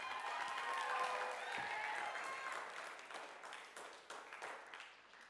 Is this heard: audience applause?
yes